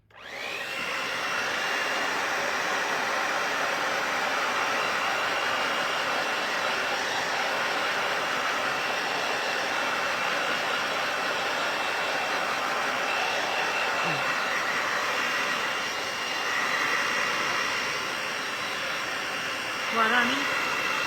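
A hair dryer dries watercolor paint, a steady close whirring blow that starts abruptly and runs unbroken for about twenty seconds, with only slight wavering and a faint voice near the end.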